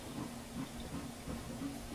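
A steam locomotive, a Class L1 built in 1886 in the Trainz game, hisses faintly on the turntable at Nelson, a quiet steady hiss with soft mechanical clanks and no talking.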